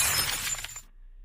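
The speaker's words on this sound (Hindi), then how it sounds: "आवाज के साथ कांच टूट गया" A glass mirror shatters in a horror story, a loud close crash of breaking glass with tinkling shards that fades out within about a second, then silence.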